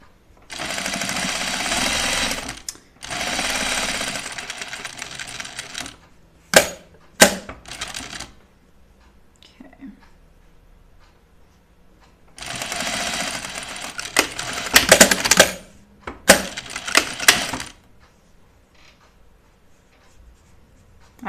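A sewing machine stitches the side seams of a Grainline Cascade duffle coat up to a notch, with two long steady runs and several short bursts and pauses between them, close and fairly loud.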